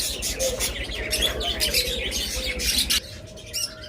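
Pet cockatiels and lovebirds chirp steadily, a busy overlapping chorus of close tweets and calls that thins out briefly near the end.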